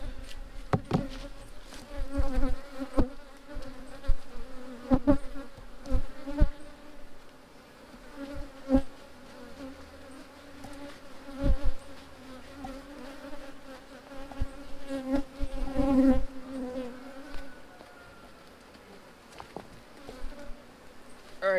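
Honeybees swarm and hum around an opened hive during a colony split, a steady close droning buzz with individual bees passing near, continuing without a break.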